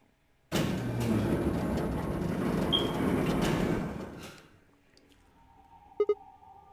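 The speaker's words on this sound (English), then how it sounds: "With no stairs, my only choice was to wait for the lift to come back down." A lift in the video game Virtue's Last Reward runs with a steady mechanical rumble and whir for about four seconds, then winds down to quiet, followed by two short electronic beeps at the end.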